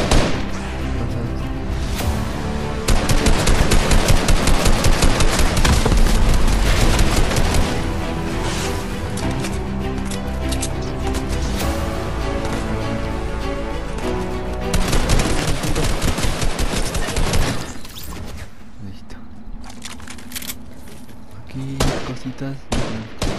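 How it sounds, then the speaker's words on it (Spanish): Fortnite gunfire in a dense, loud stretch of rapid repeated shots that runs for most of the span, easing into quieter scattered firing near the end. "Ahí están disparando también."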